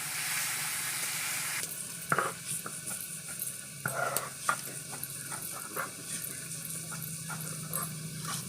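Small fresh fish caught from a paddy field sizzle in hot oil in a home kitchen, a constant crackling hiss with occasional clinks and stirring scrapes and a faint dog bark in the background.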